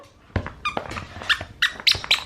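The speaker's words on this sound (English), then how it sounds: "He's a good dog." A dog plays with a small Game Boy-shaped squeaky toy indoors, producing a series of sharp, close squeaks and rustling bursts in an irregular rhythm, a few loud peaks standing alone without talk.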